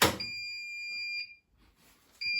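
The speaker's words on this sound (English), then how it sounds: "So I'll just turn off that buzzer." Bosch Serie 4 washing machine sounding its end-of-cycle buzzer: a steady high electronic tone held for about a second, a quiet pause, then the tone starts again, loud and close.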